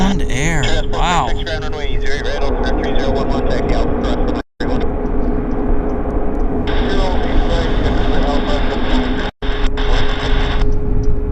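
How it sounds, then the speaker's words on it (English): An Icelandair Boeing 737 from Reykjavik roars steadily on final approach, loud and continuous jet engine noise with a rising whine, with a steady tone over it and brief dropouts. "Reykjavik on finals. It's 737 Iceland Air."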